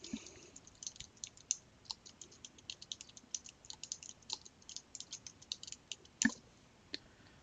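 Fingers type on a computer keyboard nearby, a quiet, steady run of rapid key clicks with one louder tap near the end and no talk.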